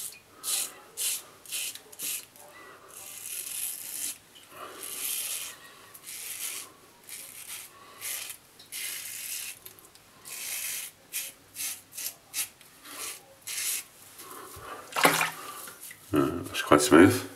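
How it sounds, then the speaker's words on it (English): Razor shaving a beard down the jawline, heard as close, repeated short scraping strokes in a steady rhythm, with a splash of rinsing water near the end. "the last crucial bit of shaving, which is down the jawline"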